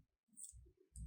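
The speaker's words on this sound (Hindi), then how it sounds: "या फिर कीबोर्ड से M प्रेस करें" A single computer keyboard key press, the M shortcut for the Move command in AutoCAD, gives one short, close click followed by a second soft tap, with no talking.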